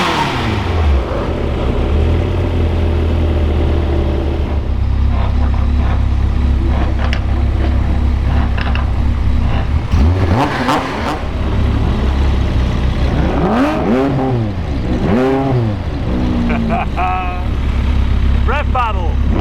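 A Caterham 620R engine revving hard in a rev battle, loud throttle blips rising and falling over a steady close engine drone, with people talking over it.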